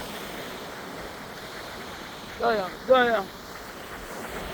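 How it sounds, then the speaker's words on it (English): Ocean waves at a Jamaican shoreline give a steady, moderate wash of surf noise throughout, with a voice speaking briefly in the middle. "Look at the ocean."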